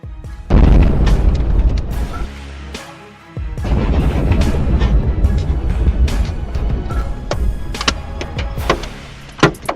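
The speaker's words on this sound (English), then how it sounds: "The explosion sent flames and smoke engulfing the city" A large explosion over a city sends out a heavy, booming blast, followed by a churning rumble with repeated sharp cracks and pops and a brief dip in the middle.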